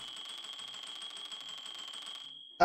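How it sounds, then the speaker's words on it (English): A bell rings in a simulator video game, a steady high electric ringing that runs continuously for over two seconds before cutting off, followed by a brief loud clunk. "Oh, and you can ring the bell."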